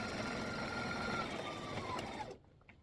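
A sewing machine stitches a pocket onto a fabric bingo bag with a steady, fast, even whir for about two seconds, then stops abruptly into near quiet.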